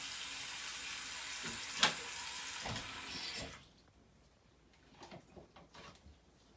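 Tap water runs steadily and loudly into a sink being filled while a clogged drain is unclogged, with a few clunks before the flow cuts off, leaving quiet handling knocks.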